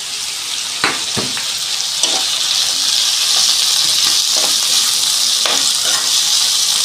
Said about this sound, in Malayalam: വാടാൻ വേണ്ടി നമുക്കൊന്ന് ഇളക്കി കൊടുക്കാം